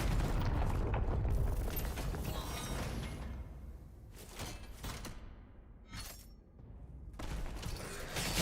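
Heavy booming impacts and crashing bursts from the Impaler weapon in DOOM: The Dark Ages, a few loud blasts separated by brief quieter gaps, with no talking.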